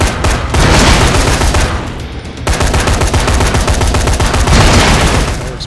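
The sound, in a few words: gunfire from a floating gun in video game Dead Rising 3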